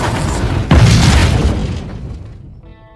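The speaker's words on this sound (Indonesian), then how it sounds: "Pada akhirnya, pesawat luar angkasa tersebut meledak dan mereka semua tewas." A spacecraft explodes in the film First Man: a sudden deep boom lands about two-thirds of a second in over a dense roar, then the sound slowly thins into a fading, ringing tail.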